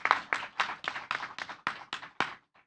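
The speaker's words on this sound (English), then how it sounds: "Once again, give a big round of applause for our discussion today." Sparse clapping from a small audience at a startup event in Jakarta, about nine distinct claps or short bursts in an uneven rhythm, fairly close and quiet, fading out at the end.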